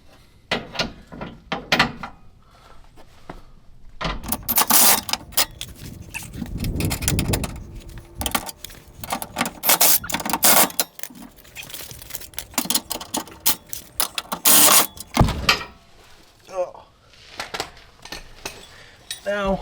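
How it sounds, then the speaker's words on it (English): Shackle hanger bolts on a Toyota Tacoma frame tightened with a 19mm socket and wrench: irregular metallic ratchet clicks, clanks and tool rattles in bursts, close by, with someone talking between them. "we're gonna go ahead and tighten down these bottom ones first"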